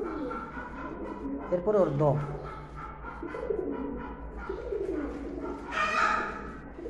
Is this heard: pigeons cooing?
yes